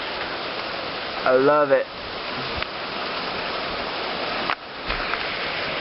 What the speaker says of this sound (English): I'm just enjoying the peacefulness of the rain.